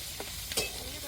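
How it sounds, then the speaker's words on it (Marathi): Spiced masala sautés in a pan with a soft, steady sizzle, broken by a couple of brief scraping stirs at close range. "चांगला सगळा मसाला परतून घ्यायचा."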